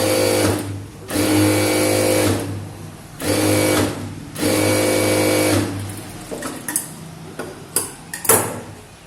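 A sewing machine stitches the sleeve of a size 44 close-neck blouse. It hums up in three sustained, loud runs separated by brief pauses, then gives way to short, uneven bursts and soft handling knocks, with no talking.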